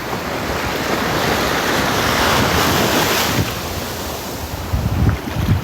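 Ocean waves roll and break on a beach at sunset, a loud continuous surf roar with heavy wind buffeting the microphone and sharper splashes near the end; no voices.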